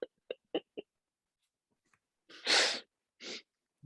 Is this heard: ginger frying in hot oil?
no